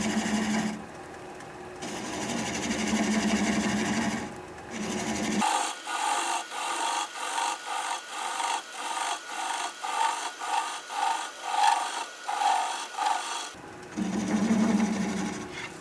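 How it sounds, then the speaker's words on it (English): Wood lathe turning a bowl slowed to about 400 RPM, a 3/8 inch swept-back bowl gouge cutting into the spinning wood in a steady pulsing rhythm of rasping scrapes, with the motor's hum before and after the cut. "And with a 3/8 inch swept back bowl gouge,"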